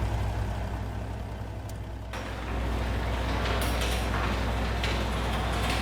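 A truck idling, then being parked in the shop in a farming video game, with a steady low engine rumble that rises slightly partway through, plus a sharp metallic clunk like a door.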